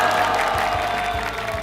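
Audience at a lecture by a chef applauding and cheering, a dense continuous wash of clapping and crowd noise, loud and close.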